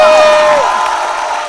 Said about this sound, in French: On va les applaudir très fort.